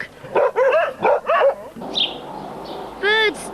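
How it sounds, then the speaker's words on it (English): A dog barks several quick times, then a few softer yips and a final higher bark, close by with light background noise. "Dogs bark."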